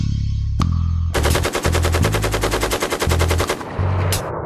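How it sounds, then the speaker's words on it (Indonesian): Rapid automatic fire from an AM416 gas-operated rotating-bolt assault rifle in a video game: a loud, dense burst of about two dozen evenly spaced shots after a single opening shot, ending with a short trailing crack. "Nama lengkap senapan otomatis AM416. Ia memakai prinsip otomatis berbasis gas."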